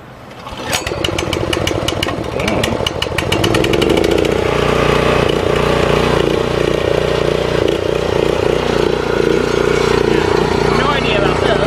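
A Yardmax YP7065 power sweeper's small gas engine is pulled to start for the first time, with rapid pulsing cranking giving way to a loud, steady running drone that continues close by.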